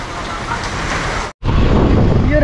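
Rain falls outdoors as a continuous broadband hiss, steady and fairly loud, broken by a brief dropout midway; a voice may be faintly present.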